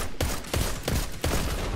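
Rapid pulse rifle bursts from Destiny 2 crucible combat, several loud close volleys of gunfire in quick succession with short gaps between, no talking.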